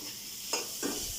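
Chicken pieces frying in a pan on a stovetop give a soft steady sizzle with two brief scraping stirs, close and fairly quiet.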